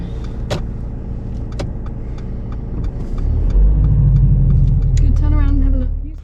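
A learner driver's car pulls away on a small road in rush hour, the engine rumble swelling into a steady louder drone, with a few clicks and an instructor speaking over it.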